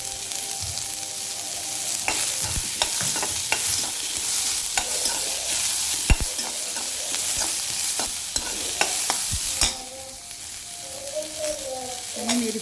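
Garlic sizzles in hot oil in a pan for a Maharashtrian masvadi rassa, with a constant frying hiss broken by sharp scraping clicks of a spatula stirring, loud and close, with no voices.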